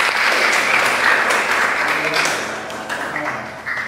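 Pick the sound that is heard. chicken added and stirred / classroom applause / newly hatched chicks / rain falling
classroom applause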